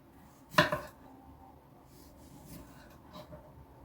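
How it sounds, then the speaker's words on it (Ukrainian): A knife cuts tomatoes into wedges on a board for a spicy salad with dates: one sharp chop, then a few softer, quieter cuts spaced out over a quiet kitchen background. "Помідори можете нарізати, як вам зручно, як ви любите. Я буду нарізати ось такими дольками."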